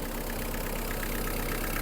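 Warmed-up Kubota GT-3 Japanese mini tractor with a 1422 cc V1405 diesel engine idling close by, a steady, loud, even knocking chug with no other sounds.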